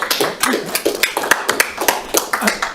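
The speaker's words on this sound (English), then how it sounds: "I'd like to give a little round of applause" A small audience gives a brief round of applause for panelists at a housing speaker series, sparse, distinct hand claps from a handful of people, close and uneven in rhythm.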